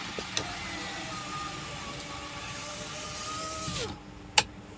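A Kia K2500 engine, checked for low power, low RPM and vibration, runs steadily with a mechanical whine before cutting off abruptly, followed by a single sharp click.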